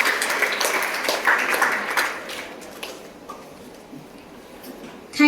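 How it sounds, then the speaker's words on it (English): An audience at a school talk gives a round of applause for a guest speaker, a nuclear scientist; the clapping is moderate at first, then thins and fades to quiet before a sudden noise at the end. "Please give a huge round of applause."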